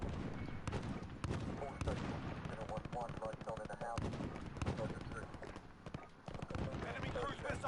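Gunfire in the video game Call of Duty: Modern Warfare crackles in dense bursts, near and loud, mixed with battle noise while players talk over it continuously.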